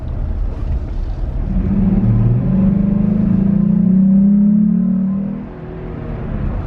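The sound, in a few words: Jeep Gladiator engine grumble with S&B cold air intake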